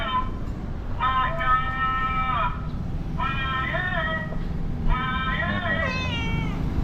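A cat meows three times in long, drawn-out cries, each a second or so apart, over a low background rumble.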